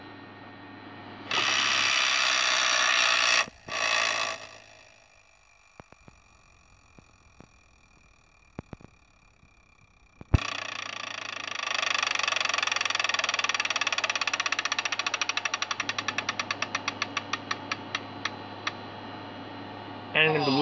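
An electronic Wheel of Fortune Deluxe Edition tabletop game whirs with a loud steady buzz, then a spin rattles out a fast series of ticks that slow and space apart as the wheel winds down.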